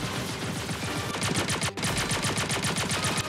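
Rapid automatic gunfire from a firefight at a security guard post in the multiplayer space game Star Citizen 2.4, a dense, loud stream of shots with a brief pause partway through.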